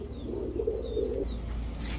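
Giribaz pigeons give a soft, low coo in a short burst, close and fairly faint, followed by quiet low rumble.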